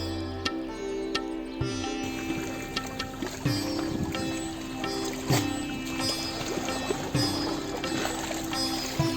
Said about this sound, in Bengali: ধীরে ধীরে নৌকাটা চলতে শুরু করে।